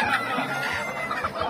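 Chickens cluck continuously at a busy outdoor poultry fair in Arapiraca, Alagoas, where ducks are also sold, their calls layered over a dense crowd-like hubbub.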